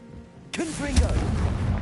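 A Confringo blasting spell is cast in Hogwarts Legacy: after a quiet start, a sudden loud burst and booming impact follow, with a rumbling tail that keeps going to the end.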